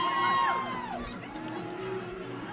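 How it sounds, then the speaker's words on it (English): A crowd at a high school football game at Memorial Field cheers and shouts, a loud swell that eases into a steady roar, with a high tonal sound gliding through it. "the crowd comes alive here at Memorial Field"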